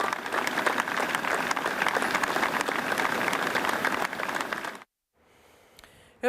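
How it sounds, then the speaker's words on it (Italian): A large crowd applauding at a firefighter's funeral, dense sustained clapping heard at a distance that goes on steadily for several seconds, then cuts off abruptly into near silence. "l'applauso della folla è diventato scrosciante"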